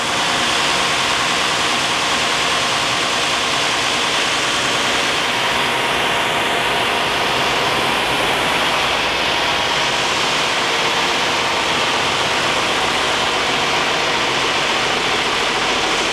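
A Timesaver belt grinder runs at high speed, giving a loud, steady, dense roar of motor and abrasive belt that continues without a break, close up and with no voices.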